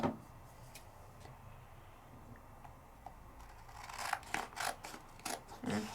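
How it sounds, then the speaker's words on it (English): Scissors snip through a rub-on transfer sheet in a papercraft session, a quiet stretch giving way to a cluster of crisp, close cutting snips near the end. "So I am going to cut this rub-on in half."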